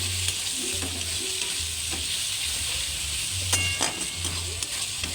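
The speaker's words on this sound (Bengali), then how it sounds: "আদা রসুন বাটা দিয়ে একটু ভালো করে নাড়াচাড়া করে নিচ্ছি," Ginger garlic paste sizzles with chicken in a frying pan while being stirred, a continuous close hiss broken by repeated scraping strokes of the spoon against the pan.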